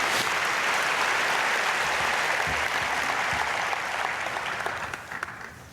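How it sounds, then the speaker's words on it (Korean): Applause from a church congregation at an early-morning prayer service fills the room, a dense, steady wash of many hands that holds strong for several seconds, then thins and fades near the end. "박수로 맞이하겠습니다"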